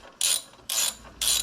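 Three evenly spaced bursts of ratchet clicking from a wrench torquing down bolts on the planetary housing of a Ford 8000 Dual Power tractor, close and crisp with short pauses between strokes.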